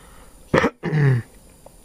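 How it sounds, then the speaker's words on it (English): A single short, close throat clearing: a sharp rasp followed by a longer voiced grumble, then quiet. "just clearing my throat"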